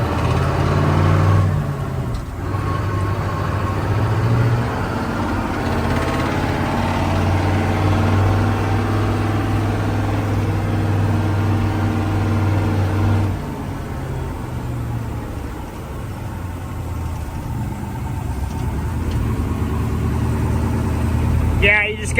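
The engine of a stuck harvest truck idles and revs in sustained, droning pulls, loud and close, with voices talking over it and a rougher surge near the end.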